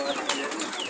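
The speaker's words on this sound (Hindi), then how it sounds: "ये हाथ में खाने दाना खाने वाला कबूतर" A tame pigeon that eats grain from the hand coos and flutters close by on a farm, a brief soft burst of bird sound over faint background noise.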